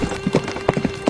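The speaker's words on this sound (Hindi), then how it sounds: "तभी दो डाकू घोड़े पर बैठकर आते हैं।" Horse hooves clip-clopping as bandits ride in on horseback, a steady uneven run of hollow knocking hoofbeats, close and clear, with no talking.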